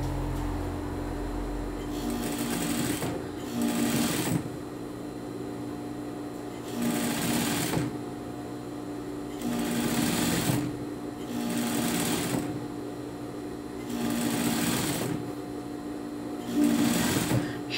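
A domestic sewing machine hems knit fabric without a coverstitch machine, running in steady whirring bursts of a couple of seconds each, separated by short quieter pauses, close and prominent throughout.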